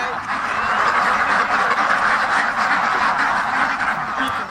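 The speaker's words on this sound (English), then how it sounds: "it's a duck race" Ducks at an outdoor duck race parade, their quacking merging into a dense, steady flock noise that runs throughout, close and fairly loud.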